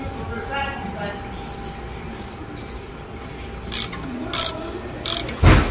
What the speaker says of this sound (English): Do with the ratchet in the beginning, then when it gets loose, do it by hand.